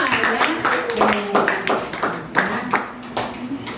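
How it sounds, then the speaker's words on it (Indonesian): A classroom claps hands in distinct, loosely rhythmic bursts over a few seconds, close and crisp, mixed with people talking. "tepuk tangan untuk kita semua"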